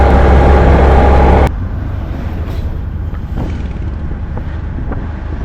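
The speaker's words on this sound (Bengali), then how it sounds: "অটো নিয়েছি ষাট টাকা নিচ্ছে এই অটোতে করে আমরা এখন চলে যাচ্ছি সাঁত্রিশ নাম্বার গেট" Auto rickshaw ride through Delhi toward Gate 37: heavy wind buffeting for the first second and a half, then a steady low engine rumble and road noise that carries on without pause.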